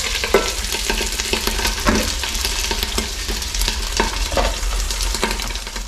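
Fish frying on a banana leaf in a covered pan makes a steady, close sizzle with soft crackles and occasional faint clinks or stirs throughout, without any voices.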